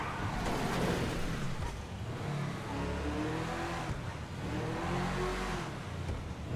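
Car engine revving in the video game GTA 5, a steady loud roar with rising and falling pitch sweeps, continuous throughout.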